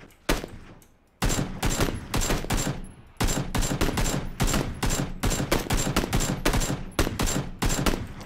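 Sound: gunfire in a video game

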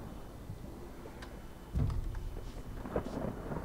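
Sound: thunderstorm in the video game Human: Fall Flat

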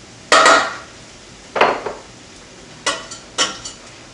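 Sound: butter being put into a pan

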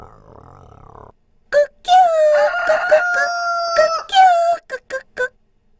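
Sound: rooster crowing

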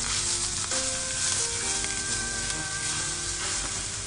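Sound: stir-frying long green onion with bonito flakes

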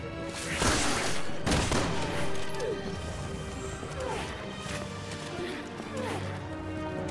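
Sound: gunfire from the video game Resident Evil 6

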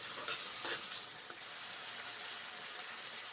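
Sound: sautéing pointed gourd with turmeric in a pan

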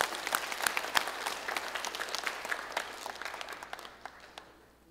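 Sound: congregation applauding to welcome a speaker

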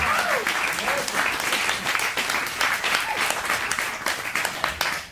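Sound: audience applause for the lineup

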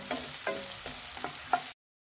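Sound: onion and dried red chilli frying in a pan

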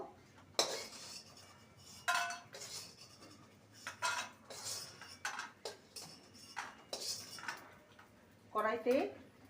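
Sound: lifting fried lentil dumplings out of the pan

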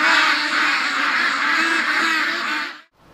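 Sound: ducks

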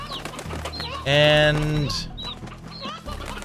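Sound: chickens clucking in Slime Rancher video game

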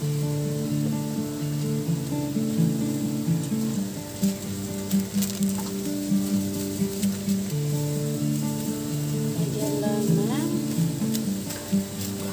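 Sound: bean sprouts being stir-fried in a pan

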